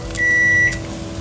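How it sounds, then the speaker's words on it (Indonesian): A single sustained electronic beep from a microwave oven in a home kitchen, loud and close, lasting about half a second. "Ini bunyi microwave-nya."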